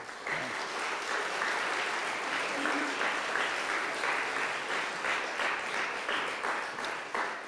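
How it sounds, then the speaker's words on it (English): At a Rotary speech contest, an audience applauds Joyce for bringing food and water, a sustained, even patter of many hands that carries on steadily without a break. "a hand of applause for Joyce for bringing all that food and water"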